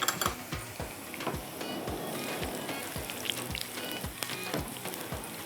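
Onions sizzling in hot oil in a pan for a tarka, a steady crackling fry with soft irregular pops, fairly quiet and close, no voices.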